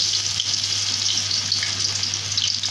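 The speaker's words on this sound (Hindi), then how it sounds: "तो अब मैं इसमें डाल रही हूँ चिकन के पीस" Chicken pieces frying in hot oil for pakoras, a steady loud sizzle and crackle that carries on unbroken with no talking.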